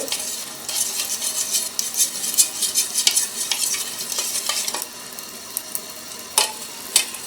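Karachi halwa batter being stirred continuously in hot sugar syrup, with rapid scraping strokes and bubbling sizzle, busy at first, then quieter with a few sharp utensil clicks.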